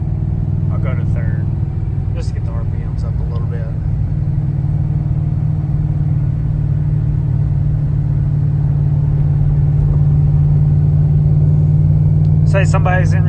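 A supercharged, cammed C6 Corvette drones along a freeway in fourth gear with a deep, steady engine rumble that swells slightly near the end, while a driver talks over it.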